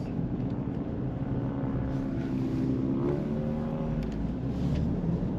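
A 2024 Jeep Grand Cherokee 4xE hybrid accelerates out of a corner, its engine a steady, fairly loud drone with a low hum that climbs in pitch, heard from inside the vehicle.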